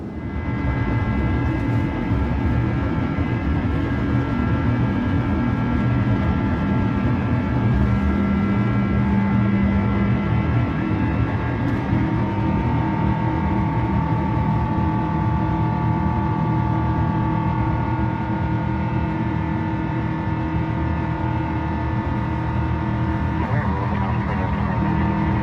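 Asiana Airlines A350 taking off from runway 28 left in San Francisco, bound for Seoul: a loud, unbroken engine roar that holds steady for the whole stretch.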